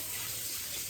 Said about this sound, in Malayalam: വെള്ളം ഒഴിക്കുന്ന കേട്ടോ അതിൻ്റെ ബഹളമാണ് ഈ കേൾക്കുന്നത്